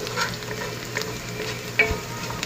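Onion fries in a pan for an aloo bhindi dish, giving a steady dense sizzle with occasional stirring scrapes and a sharper clink near the end, close and continuous without talk.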